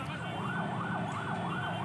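A fire engine siren at a fire in a two-storey building-materials shop, wailing in a steady rising-and-falling cycle, moderately loud, alone against a constant background hum.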